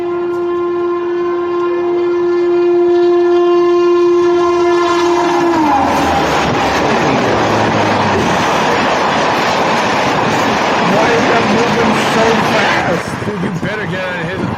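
A train whistle blows in long steady tones, then a loud train roars past close by with rushing, rattling noise and excited voices shouting over it.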